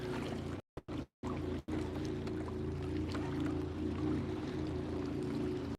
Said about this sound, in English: Big waves coming in. There's that wake boat I was telling you guys about like a minute ago.